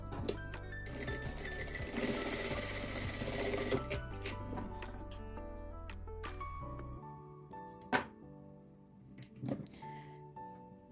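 Sewing machine stitching elastic onto fabric for a turban, a fast steady whir for about seven seconds, then stopping, followed by quiet handling clicks and fabric rustles; fairly faint overall, no speech.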